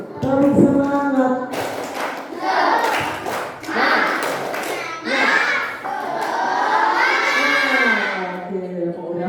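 Schoolchildren at an elementary school anti-bullying session chant and clap the tepuk semangat rhythm together, a loud crowd of young voices with bursts of clapping filling the room.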